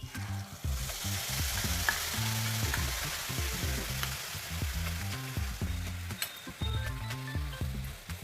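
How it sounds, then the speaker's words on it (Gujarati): Cumin, asafoetida and a ground paste fry in hot oil for chole, a close crackling sizzle with repeated rhythmic stirring scrapes of a spoon against the pan, no voices. "હવે તેલ આપણું સરસ એવું થઈ ગયું છે તો તેમાં આપણે થોડું જીરું એડ કરશું."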